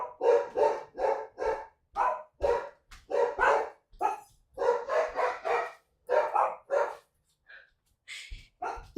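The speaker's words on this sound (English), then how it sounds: "I'm going to go see what they're barking at." Dogs bark repeatedly in quick bursts, loud and close, a rapid string of barks with short pauses, ending in a few higher yips.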